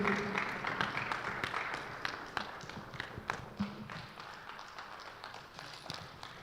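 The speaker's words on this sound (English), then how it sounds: "Let's give you a round of applause as she comes through." An audience applauds to welcome a speaker at a business summit, with scattered, fairly faint clapping that thins out over several seconds.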